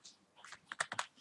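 Computer keyboard being typed on while configuring a Debian 8.4 Linux machine, a quick close burst of several key clicks in an uneven rhythm, quiet and alone.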